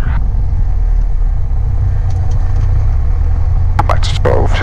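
A light aircraft engine idles through pre-flight checks as a steady, loud, low rumble with a few brief clicks near the end.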